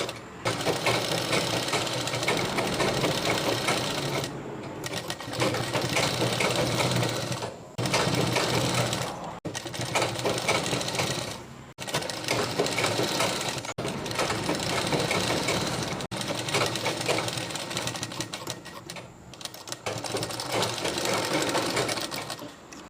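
A sewing machine stitches a small goddess idol's dress in a series of steady, close-up runs broken by short pauses, with no talk.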